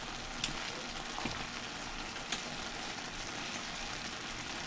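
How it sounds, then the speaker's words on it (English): Rice and beans frying in a pan with a steady, moderately loud sizzle, and a few faint scrapes of a stirring utensil spaced through it. Nobody speaks. "At this point, we just wanna give it a stir."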